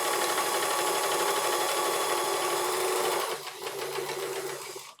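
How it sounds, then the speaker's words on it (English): A sewing machine stitches a bathing suit with a fast, steady whirring buzz, close and continuous, then slows and stutters briefly before stopping, with no talking. "And now we're all sewn together."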